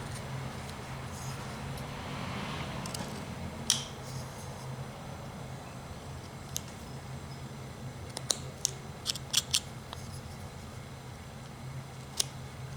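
A carving knife whittling a small wooden Christmas bear ornament: faint scraping cuts under steady background hiss, then a cluster of sharp little clicks and snicks near the end, close and quiet.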